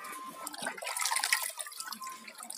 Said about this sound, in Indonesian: setelah dirasa agak kotor, mendingan kita cuci dulu